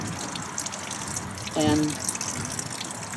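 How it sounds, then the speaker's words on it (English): Gray tank water pours from a bucket into a motorhome toilet, a steady wash of liquid with a louder gushing burst midway, while someone talks over it. "pour it down the toilet"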